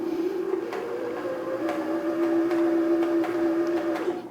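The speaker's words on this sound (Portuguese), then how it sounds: "agora eu vou pisar no pedal para ela começar a rodar e encher" A home sewing machine motor whirs steadily as the pedal starts it winding thread onto the bobbin, a bright sustained hum with faint rhythmic ticking over about four seconds.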